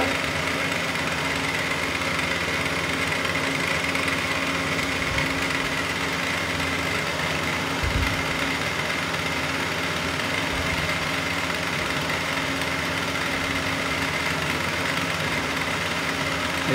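A machine cuts a keyway into a metal shaft with a steady, loud, droning motor hum and whine that runs unbroken throughout, with one brief low thump partway through and no talk.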